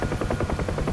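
A UH-1H Huey helicopter in DCS thrums with the rapid, steady whop of its rotor blades, loud and close, in a pulsing rhythm with no speech.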